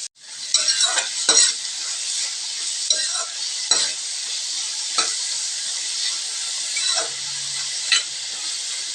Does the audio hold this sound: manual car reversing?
no